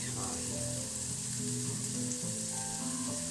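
Swedish meatballs fry in a pan with a dense, steady sizzle, close and moderately loud, with a faint low clatter underneath and no talking.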